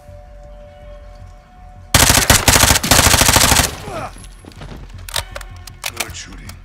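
Automatic gunfire in Call of Duty Modern Warfare II erupts in a loud, rapid burst lasting about two seconds after a quiet stretch. A few sharper single shots and clatters follow at a lower level.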